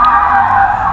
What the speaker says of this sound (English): Got a BMW about to spin it.